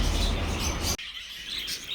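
Budgerigars chirp in a busy, continuous flock chatter, loud and dense at first, then suddenly thinner and quieter partway through.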